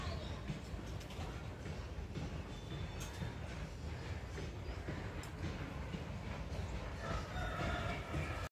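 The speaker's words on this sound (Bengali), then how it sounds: "ট্রেন যাচ্ছে, ট্রেনের আওয়াজ হচ্ছে" A train rolls past outdoors with a steady, loud rumble and rush filling the whole stretch, mixed with breeze, with a faint rooster crowing in the background.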